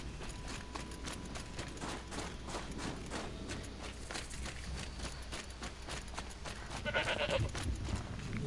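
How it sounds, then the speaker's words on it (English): Goat-like creatures in the video game Horizon Zero Dawn bleat repeatedly over a steady background of hoof clatter and game ambience, with a louder bleating burst near the end. "Goat."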